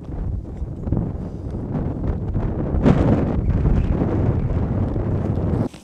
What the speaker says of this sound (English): let's see if I can make use of this headwind